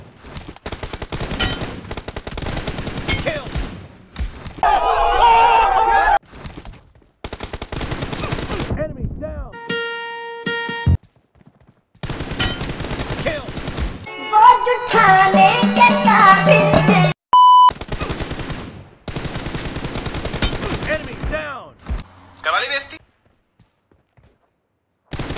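Gunfire in the battle-royale video game PUBG: several loud bursts of shooting arrive in separate clusters with beeps and short pauses between them, over busy game sound and no talk.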